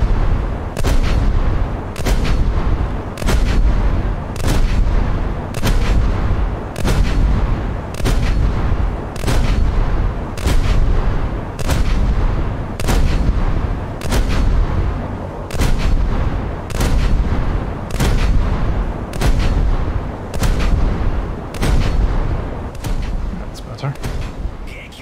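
Heavy naval guns on the destroyer Hatsuharu firing in a naval combat game, a long series of booming salvos at a steady rhythm, roughly one every second or so, over a continuous rumbling background.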